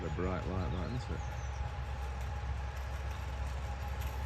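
The Lady Wakefield diesel locomotive draws in the first train from Ravenglass on the narrow-gauge River Esk railway, a continuous low engine rumble with a brief voice at the start and faint birds in the background.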